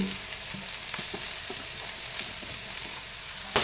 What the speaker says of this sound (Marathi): कांदा चांगला सोनेरी रंगावर भाजून झाला की आता लगेचच याच्यात आपण जी चिरून ठेवलेली मेथी आहे ती मेथी घालून घ्यायची